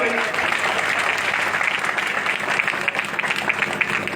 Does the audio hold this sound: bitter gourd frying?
no